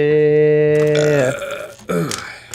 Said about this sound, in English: Started off with a burp.